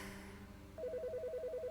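A telephone rings in the Autopsy Simulator video game, a quiet trilling electronic ring that starts abruptly and warbles rapidly between two tones over a low background hum.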